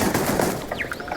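Rapid automatic fire from the compact Kodama rifle in the game Starfield, a dense continuous burst lasting about a second, close and loud, with a few bright ricochet-like whines near the end.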